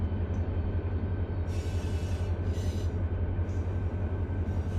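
A freight train hauling oil tank cars rolls past in the Run 8 Train Simulator, a steady loud rumble with rhythmic clacking of wheels and brief hissing bursts.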